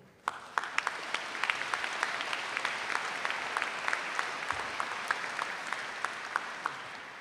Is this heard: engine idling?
no